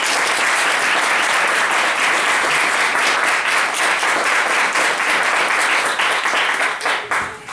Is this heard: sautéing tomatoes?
no